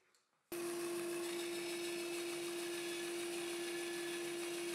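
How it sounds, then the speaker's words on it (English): A saw fitted with a larger blade starts abruptly and runs with a loud, steady, humming whine while cutting a small-radius circle in a 45mm-thick end-grain wood workpiece. "it's difficult for the saw to cut a circle in a 45mm thick workpiece with end grain and with a relatively small radius"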